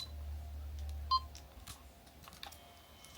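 A camera beeps as it is switched on, a single short bright tone among faint clicks and handling noises in a quiet room.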